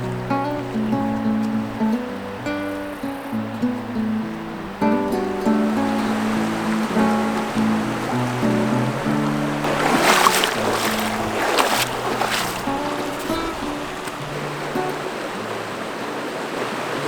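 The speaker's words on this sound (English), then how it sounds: "that is one gorgeous looking river" A mountain river in snowy high country runs steadily, a broad continuous rush of flowing water with a few brighter splashy surges partway through.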